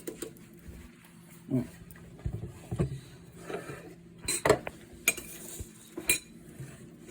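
Ground homemade biryani masala spice mix dumped into a bowl: several soft thuds, taps and clinks spread across the stretch, close by and fairly quiet, with no talking.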